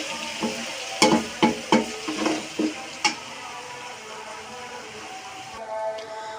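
Garlic ginger paste fries in a pan for chicken biryani, with a run of sharp stirring scrapes and sizzle bursts early on, then a softer, quieter sizzle.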